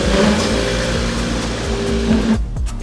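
A homemade fake Toyota built in China drives under its own power, its engine droning steadily and fairly close with slight revving, no voices, before the sound drops away abruptly at the end.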